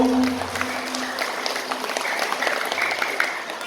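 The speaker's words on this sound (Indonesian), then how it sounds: "Tepuk tangan buat Pak Kades Sarwono ibu." Audience applause at an Isra' Mi'raj religious lecture gathering in a village, steady clapping throughout with a faint voice briefly audible at the start.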